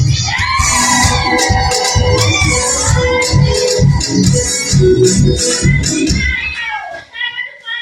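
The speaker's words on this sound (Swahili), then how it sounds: "Mwanamke, jipigie makofi na vigelegele." Women in a church congregation clap and ululate in a loud, sustained burst of high trilling cries over dense crowd noise, fading near the end.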